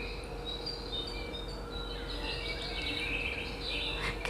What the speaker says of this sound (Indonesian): dan ini ada suara burung.